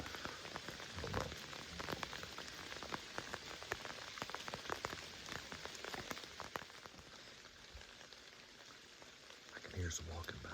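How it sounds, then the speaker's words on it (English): Steady rain pattering on surfaces during a hunt outdoors, a continuous close hiss of drops with irregular louder taps, fairly quiet and unbroken throughout. "As long as this rain holds out, keeps raining, something's going to show up."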